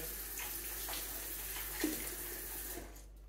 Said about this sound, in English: I'm just going to give the fish a bit of a rinse under cold water.